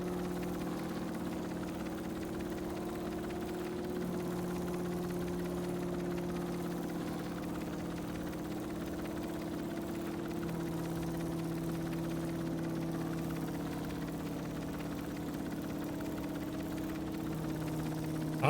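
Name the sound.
engine running in the video game Stormworks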